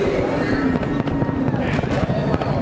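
Fireworks going off over the Daytona race track on a Fourth of July weekend during a NASCAR race celebration, a dense continuous crackle and rumble with sharp pops, heard alongside crowd and commentary voices.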